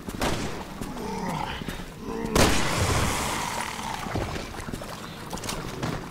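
Gunfire during a tough boss fight in the video game Resident Evil 6, a sharp loud blast followed by booming rumble and game ambience, with a voice talking over the action.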